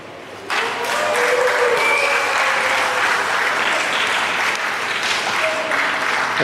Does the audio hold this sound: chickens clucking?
no